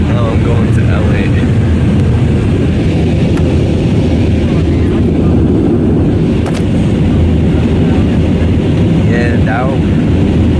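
Steady, loud broadband roar of a plane's engines and airflow heard from inside the cabin in flight, constant throughout with no breaks.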